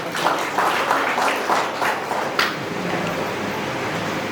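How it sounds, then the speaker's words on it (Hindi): A small crowd applauds at an engagement ceremony in Kabir Hall, Suva, the clapping swelling in several bursts before thinning into scattered claps and room murmur. "हम राम नरेश जी को भी तालियों से धन्यवाद देंगे।"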